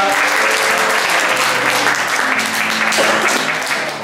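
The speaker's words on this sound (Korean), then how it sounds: "자 박수 한번 부탁드립니다" An audience at a church concert in Toronto claps loudly and steadily, a thick continuous wave of applause filling the room, fading slightly at the end.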